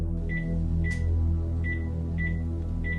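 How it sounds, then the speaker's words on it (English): Mobile phone keypad tones as a 16-digit number is typed, short evenly spaced beeps over a steady low hum, fairly faint, with no voices. "use your keypad on the mobile phone and key in your 16-digit number"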